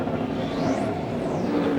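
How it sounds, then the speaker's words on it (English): A race car in the 2001 Sebring ALMS race runs down the pit lane on its speed limiter, a rough, steady buzzing drone with a sweeping whine passing by, loud and continuous. "That noise you hear is the car on its speed limiter."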